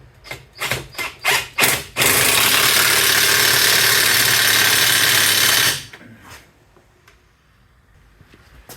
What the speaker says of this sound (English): DeWalt torque impact gun.